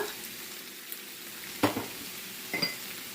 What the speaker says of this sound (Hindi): अब हम चम्मच चलाते हुए तमाम स्पाइसेस डालते जाएंगे